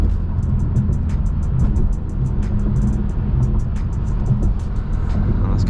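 A BMW M6 in sport mode merging onto a highway, its engine and road noise a steady loud drone from inside the cabin, with a faint repeating high ticking.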